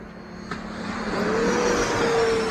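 A red Dynam Meteor V3 RC jet with a 12-blade 70mm electric ducted fan flies at throttle, giving a loud, steady rushing whine that swells and climbs in pitch partway through, with no talking.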